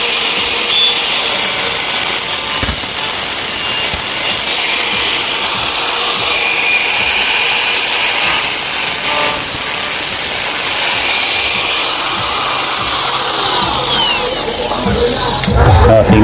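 A power tool grinds a capacitor from a copper transformer, producing a loud, continuous harsh grinding and rasping noise close by with a few clicks and knocks, ending in a sharper burst.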